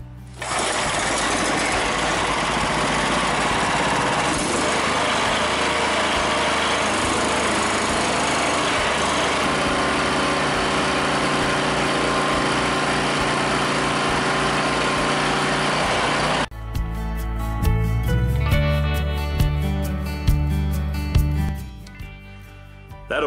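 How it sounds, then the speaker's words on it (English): Small engine driving the hydraulics of a homemade sawmill, a loud steady high-pitched drone close by for most of the run, then the pitch and load change abruptly toward the end with uneven labouring; no talk. "we got a chance to put the motor on there and run the hydraulics and watch the sawmill go back and forth"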